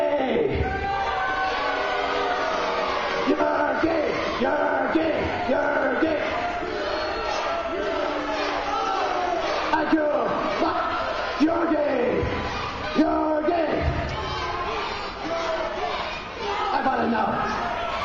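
Wrestling arena crowd at a tag team championship flag match, a loud sustained roar of cheering, shouting and chatter filling the whole stretch without any organized chant.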